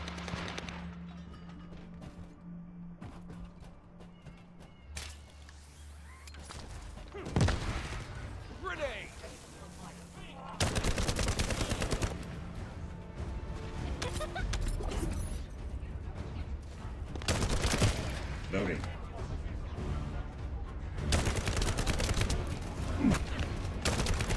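Gunfire from the video game The First Descendant sounds in repeated bursts, with rapid volleys and sharp shots separated by short lulls and mechanical clicks under game effects.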